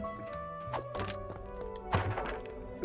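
Hits land on a creature being shot at in Craftopia: several dull thunks and a few sharper impacts, irregularly spaced and fairly quiet, over a low game soundscape with no talking.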